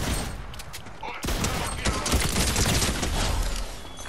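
Rapid bursts of gunfire in a Fortnite Battle Royale match, dense and continuous after a brief lull, loud and close with overlapping shots; faint talk is mixed in.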